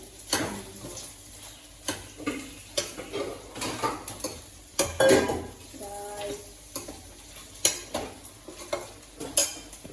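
Taro tempering is stirred in a thin-bottomed kadhai, with a spoon scraping and clinking against the metal in irregular, repeated strokes over a soft background sizzle, close up.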